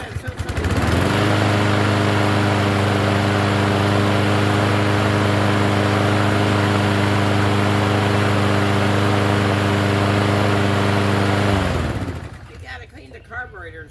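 A Troy-Bilt push lawn mower with a rusted-through deck and a suspected carburetor problem runs close by, a loud, steady engine drone that holds for about eleven seconds before cutting out, with voices talking over it.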